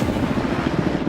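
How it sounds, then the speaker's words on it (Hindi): Helicopter flying over the sea, a loud, close, steady rotor roar with dense low thumping and no voices. "ये हेलीकॉप्टर हमारे बॉयज को ऊपर हवा में ले जाएगा"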